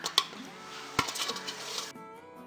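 Roasted coconut is mixed into wheat flour cookie dough in a bowl, with a couple of sharp utensil clinks against the bowl followed by soft, irregular scraping and stirring up close.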